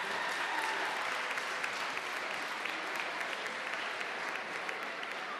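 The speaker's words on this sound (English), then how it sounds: "Give yourselves a nice round of applause for being here today" A room of students at a high school senior summit applauding themselves, a continuous, even wash of many hands clapping at moderate distance, steady from start to end with no talk over it.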